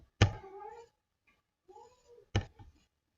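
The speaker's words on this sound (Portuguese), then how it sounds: "meu gato é novo, miando, não sei se dá para ouvir o miado do gato" A young cat meows three times close by, two clear calls separated by a softer, quieter one, with no talking in between.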